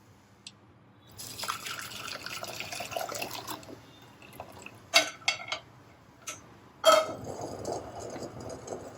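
Stock pours and drips through a strainer into a pan, with scattered clinks of metal cookware and a few sharp splashes near the end.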